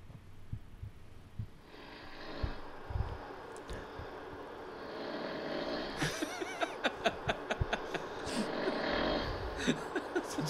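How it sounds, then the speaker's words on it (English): A man snores steadily in deep rumbling breaths, faint and close, with soft background noise. "Like a fucking sleeping demon. Sounds like you're trying to start a lawnmower or a chainsaw."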